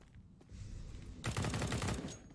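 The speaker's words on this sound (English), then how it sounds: "Nice spray through the smoke there" Counter-Strike: Global Offensive gunfire in an esports match. Quiet game ambience gives way to a sudden, loud, sustained automatic spray of rapid shots that fills the last second.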